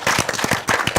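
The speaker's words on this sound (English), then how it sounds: "Please clap for her." An audience claps for a woman at a live talk event, a brief burst of scattered, separate hand claps at moderate volume lasting about a second.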